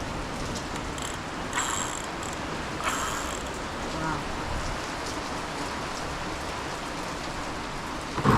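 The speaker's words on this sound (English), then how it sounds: "Still a lot of rain." Steady rain falls with a dense, even hiss and patter on surfaces outdoors, fairly close, with a few brief mechanical clicks and rustles mixed in.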